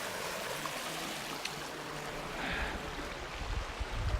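Water runs along a hiking trail on the Sheltowee Trace near the Walls of Jericho, making a steady broadband rush and trickle that stays fairly loud and continuous throughout, with a few faint handling bumps near the end.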